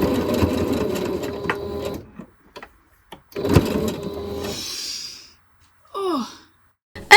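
A sewing machine stitches plush tail pieces in two close, loud runs of busy mechanical whirring, separated by quiet pauses and a few soft clicks, followed by a brief sigh-like breath.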